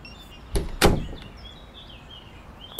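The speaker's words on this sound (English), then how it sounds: "don't forget to lock your door." A door is closed and locked, two sharp knocks and clacks close together followed by a quiet pause and another click at the end, crisp and near against a soft background hiss.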